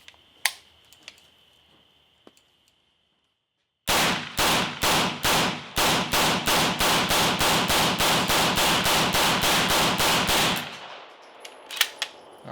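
An MP5 fires about 20 rounds from a KCI magazine in one fast, even burst of sharp, loud cracks, followed by a few scattered clicks and clatter once the burst stops.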